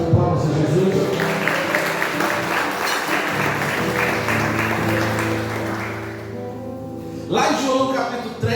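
A church congregation applauds in a steady, sustained burst of clapping that carries on for several seconds, then fades as a voice begins speaking.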